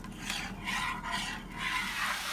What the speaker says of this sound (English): Okay, so this is sizzling away